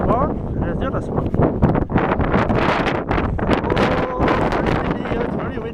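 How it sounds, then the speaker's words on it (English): Strong wind gusts across Tramore Beach, a steady close rumble buffeting the microphone throughout, with a person talking over it. "Oh, it's very windy."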